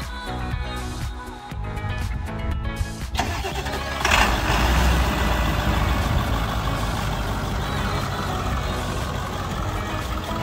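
A 7.3L turbo diesel engine in a Sportsmobile 4x4 van cranks and fires up via remote start after a short glow-plug delay, then settles into a loud, rumbling diesel idle, close by.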